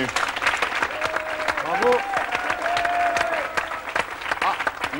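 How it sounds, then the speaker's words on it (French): Studio audience applauding and cheering for guest Jacques Rému on a French TV show, steady dense clapping throughout with a shouted bravo and a brief whistle-like tone in the middle. "J'aimerais bien qu'on l'applaudisse et qu'il vienne nous rejoindre, Jacques Rému."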